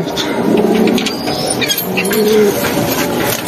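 Pigeons in a loft give a few low, throaty coos, near and moderately loud over a steady background hiss, with a faint fluttery rustle between calls.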